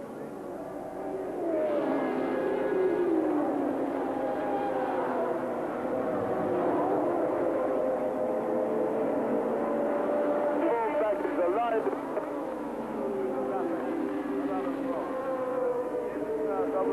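Pironi's 600-horsepower V6 turbocharged Ferrari Formula 1 car at the 1982 South African Grand Prix, a buzzing, shifting engine whine sweeping past under continuous commentary from a speaker.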